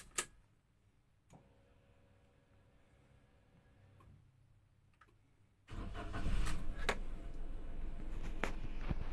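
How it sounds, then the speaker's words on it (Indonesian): A car engine cranks and catches about two thirds of the way in, then idles steadily and loudly close by, after a quiet stretch with faint ticking and a few light knocks. "Pertama-tama kita nyalakan mesin mobil."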